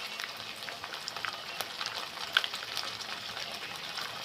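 Ginger garlic paste frying in a pan, a soft steady sizzle with faint crackles and light pops, quiet and close, no voices.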